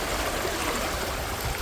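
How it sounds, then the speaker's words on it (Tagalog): River current flowing past a fishpond area, a steady broadband rushing and gurgling of water, close and continuous, with no talking over it. "Pasang agos ng tubig eh."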